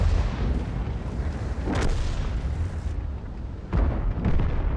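Heavy tank cannon shots in World of Tanks, with booming blasts near 1.8 and 3.7 seconds rising over a dense, rumbling battle background, loud and close, with no voices.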